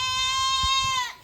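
A goat gives one sustained, harmonically rich bleat that wavers slightly before trailing off, close and clear over faint low background thumps.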